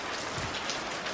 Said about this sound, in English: That's called hail.